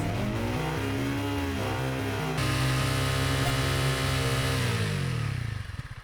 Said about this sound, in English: So that's how I sampled motorcycle sound effects for our game.